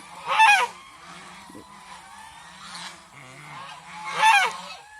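Two loud bursts of goose honking, a few seconds apart, ring out over a quiet background with faint low murmuring between them.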